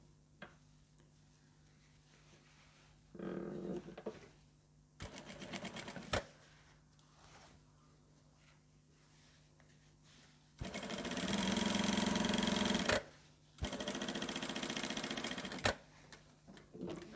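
A sewing machine stitches a fabric seam on a Communion dress in several separate bursts, the last two long and loud, with quiet pauses between runs.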